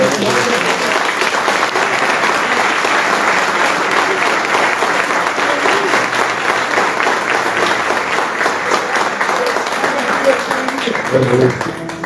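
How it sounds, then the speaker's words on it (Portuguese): Long, loud, continuous applause from a church audience praising Jesus, a dense even clatter of many hands lasting over ten seconds, with faint voices mixed in underneath. "Pode aplaudir Jesus."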